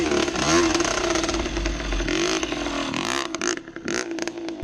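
An old, beat-up little two-stroke dirt bike ridden on a trail, its engine buzzing loud and close with rising and falling revs, plus clattering and scraping over rough ground.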